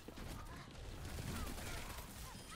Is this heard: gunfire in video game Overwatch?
yes